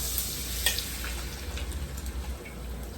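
Eggs frying in melted butter and oil in a pan give off a steady, close sizzle and crackle that runs through the whole stretch, with a few brief spits and pops.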